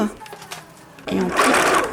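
Sewing machine stitching a folded fabric band for a garment sewing pattern, a short burst of fast mechanical whirring after someone speaks briefly.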